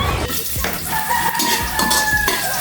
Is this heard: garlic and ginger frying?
yes